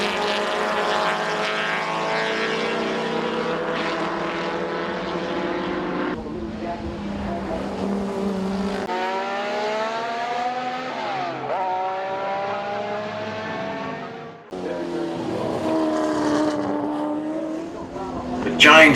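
1960s racing cars lapping the field at the Warwick Farm motor racing circuit in Australia, including an Austin Healey Sprite, a Honda and a Jaguar; several engines drone together, their pitch rising and falling as cars pass, with a brief dip near the end.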